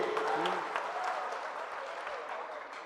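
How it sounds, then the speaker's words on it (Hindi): Audience applause at a Hindi poetry gathering, a steady wash of clapping from a seated crowd that slowly tapers off over a few seconds, with a faint voice heard briefly beneath it. "जरा तालियां बजाइए इनके लिए।"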